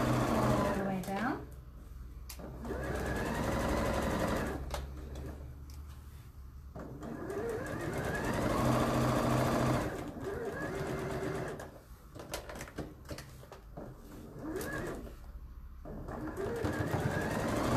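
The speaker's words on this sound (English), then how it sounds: "So quarter inch foot, so you can just attach the binding." A sewing machine fitted with a quarter-inch foot stitches binding onto a seam in several steady bursts, each a fast mechanical whir that starts and stops, with talk heard between and over the runs.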